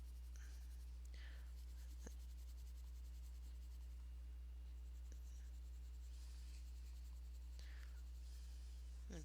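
A Mitsubishi Uni coloured pencil in orange shading on textured paper, a quiet, close, scratchy rubbing in irregular strokes over a steady low hum, with no talking.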